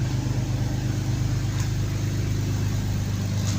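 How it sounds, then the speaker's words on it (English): Nissan VQ37 V6 idling roughly with a misfire, a steady close low-pitched rumble whose pulses waver and stumble unevenly throughout, heard alone without talk. "See, the idling is not stable, it's fluctuating."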